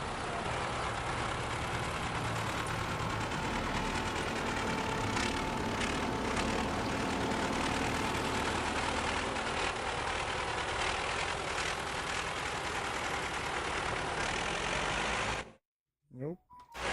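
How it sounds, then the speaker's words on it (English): Diesel engine of a 1955 IH 141 combine running steadily, a loud dense rumble with a constant drone, close and continuous for about fifteen seconds before abruptly cutting out. "It's a very unique sound to this tractor too."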